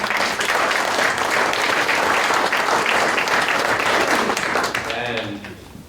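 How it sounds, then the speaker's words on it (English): Loud, steady applause from a conference audience fills the room, sustained for several seconds before tapering off as a voice begins to speak. "Can we give him a clap, guys?"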